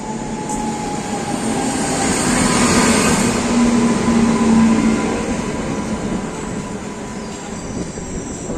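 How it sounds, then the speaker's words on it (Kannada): A train arriving at a station rumbles steadily close by, its broad roar swelling and easing, with a drawn-out metallic wheel squeal rising midway through. "ಜಸ್ಟ್ ನಮ್ಮ ಟ್ರೈನ್ ಬಂತೀಗ"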